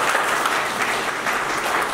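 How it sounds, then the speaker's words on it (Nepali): Audience applause at a Nepali political gathering, a dense continuous clapping from a large crowd, loud and steady throughout. "तालीले स्वागत गरौँ"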